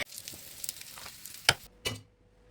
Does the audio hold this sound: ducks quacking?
no